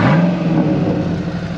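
A 1999 Pontiac Trans Am 30th Anniversary Edition V8 rumbles loud and close in a brief, steady rev, with a deep throaty drone and no voices over it.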